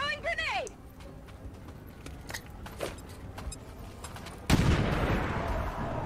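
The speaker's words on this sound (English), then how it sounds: "Throwing grenade!" In XCOM 2, a grenade is thrown, and after a few seconds of scattered clicks and faint battlefield noise a sudden loud blast erupts and lingers as a rumbling roar.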